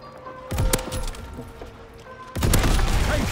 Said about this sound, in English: Firing batteries to the bridge.